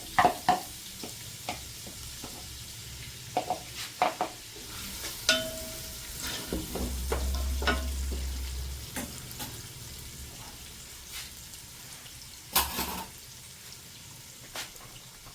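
Onions frying in a pan for a home-cooked dish, a steady soft sizzle with scattered clinks and scrapes of stirring, fairly close and moderate in level, with no talking.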